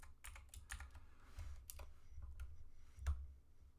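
Password typed on a computer keyboard at a Debian login screen, a quick run of close, faint key clicks in irregular bursts over a low background hum.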